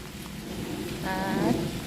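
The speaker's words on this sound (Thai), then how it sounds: "ฝนตกอย่างขากเลย" Heavy rain pours steadily outdoors during mushroom foraging, a dense even hiss that swells slightly toward the end, with no one speaking.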